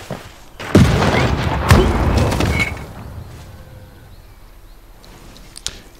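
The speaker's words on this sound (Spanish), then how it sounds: "Creo que puedo aguantar otro cañonazo." Cannon fire in the turn-based strategy game Civilization VI: two heavy booming blasts about a second apart, each with a rumbling tail, then quieter ambience and a brief sharp click near the end.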